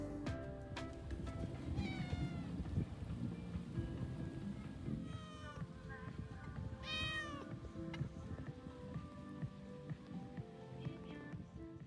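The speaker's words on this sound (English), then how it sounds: "Not one, not two, not three, but 4 cats and a few chickens." Several cats meow repeatedly around an outdoor restaurant table in Panama City, with rising, drawn-out calls spread across a steady background of ambient noise and distant rumble.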